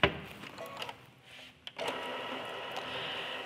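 A home embroidery machine stitches a bear's face on a hooped lovey, a steady fast mechanical whir with a brief pause and restart partway through, close and even.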